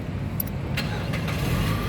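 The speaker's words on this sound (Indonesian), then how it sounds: "Sekarang kita coba nyalakan mobil ya." A 2012 Mazda Biante with an automatic 2.0 engine starts and settles into a steady low engine rumble, close by, with faint clicks and no talk.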